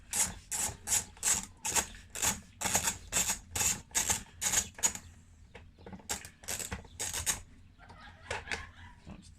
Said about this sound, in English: What I'm using is a flathead and a bit on the socket.